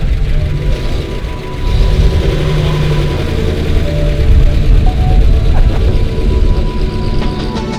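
A bagger motorcycle engine rumbles loud and close with a steady low-pitched drone that holds for several seconds without pause.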